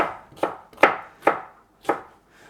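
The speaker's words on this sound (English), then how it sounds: "That's probably enough strips, so this I'll just cut into cubes." Knife chopping food on a cutting board, cutting strips and then cubes during meal prep: five crisp, evenly spaced chops close up, each a sharp thwack with a short fade, and no voices.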